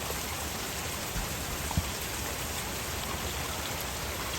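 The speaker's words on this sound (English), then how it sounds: "Y'all, I love rain," Steady rain falls outside in a garden, a dense unbroken hiss of drops with a couple of faint nearby taps, no voices.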